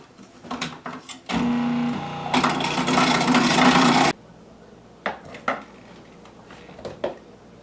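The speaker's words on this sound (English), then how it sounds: "We're going to go ahead and shred up the carrots first." Carrots being shredded for coleslaw with a food processor, a loud steady machine whir running for a few seconds, then quieter clattering and scraping knocks.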